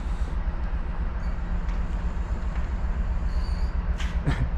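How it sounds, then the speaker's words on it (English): A locomotive rolls along railway tracks into a depot with a steady low rumble of wheels on rail, a continuous heavy drone throughout and a couple of brief metallic squeals near the end. "Did you hear the tracks?"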